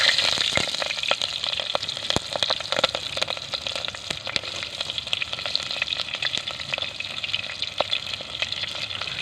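Green chillies and curry leaves frying in hot oil in a village kitchen, a steady dense crackling sizzle with scattered sharp pops running throughout, close and continuous with no voices.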